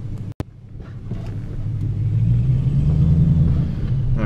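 A procharged Dodge Challenger R/T on a 1/8 mile pull rumbles loudly, the engine note swelling to a heavy, sustained roar after a sharp click near the start.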